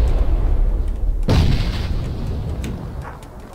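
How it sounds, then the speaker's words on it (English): Grenade in PUBG detonates with one loud, close boom after a rumbling lead-in, its low roar then fading slowly over a few seconds; no speech. "Oh, grenade!"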